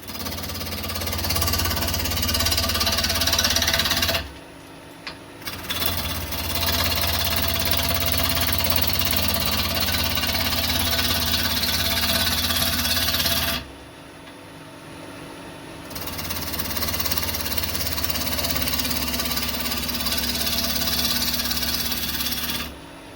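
A wood lathe spins a wooden workpiece at about 1000 RPM, giving a loud, steady mechanical drone that cuts out twice briefly and then resumes at the same level.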